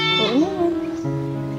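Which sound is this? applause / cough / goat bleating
goat bleating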